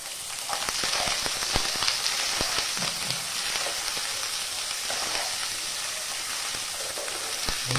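Sliced onion frying in a pan for chicken curry, a dense steady sizzle with scattered pops and crackles and occasional soft scraping of a stirring spoon, close and continuous.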